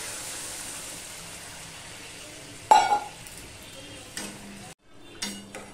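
Water poured into hot masala frying in a pan for a fish curry, a sudden sizzling burst over a steady background fry, then a few softer clinks and splashes.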